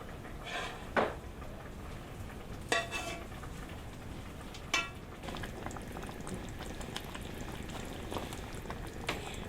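Chicken stew with green herbs and citrus bubbles steadily in a pot, with a few sharp clinks of a utensil against metal at intervals.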